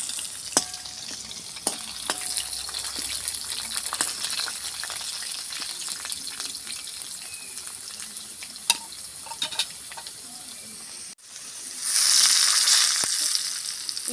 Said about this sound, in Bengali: আলুগুলো আমি লাল লাল করে ভাজব